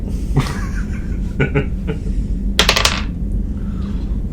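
Dice clatter across a hard tabletop during a tabletop role-playing game, a sharp rattling burst of several quick clicks that settles after a moment, heard over a low room hum with a few faint earlier taps.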